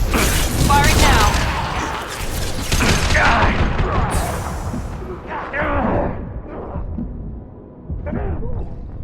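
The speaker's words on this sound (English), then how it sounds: "Firing now." Weapons firing in the video game Mass Effect, loud bursts of gunfire and booms with mechanical clatter, a voice speaking partway through.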